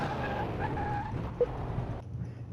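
A video game car brakes and skids, tires scrubbing with a hissing whine over the engine drone, one sharp knock midway, before the sound drops away.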